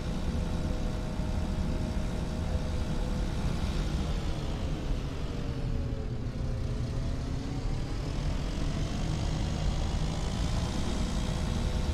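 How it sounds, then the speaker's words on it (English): Wheel loader engine in the Farming Simulator 22 video game, a steady loud droning rumble heard from inside the cab, with a slowly sweeping whine as revs shift, continuous throughout with no talking. "it is a nice tractor here. Well, nice wheel loader, I should say,"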